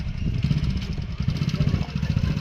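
A motorcycle engine runs close by as it is started for a ride, giving a steady, throbbing low rumble with slight pulsing through the whole stretch and no clear voices.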